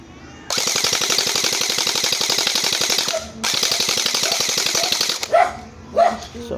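An ARP9 long-barrel airsoft gun rated at 280 FPS fires on full auto in two long rapid bursts, a dense mechanical rattle close to the mic, followed by a couple of brief barks from a dog.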